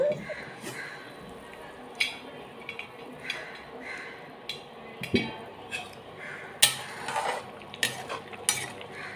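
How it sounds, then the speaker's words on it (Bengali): A cooking pot of koi fish and mango curry has its lid lifted off, giving sharp metallic clanks and scattered clinks over a steady low simmering hiss. "এবার ঢাকাটা তুলে দেখব।"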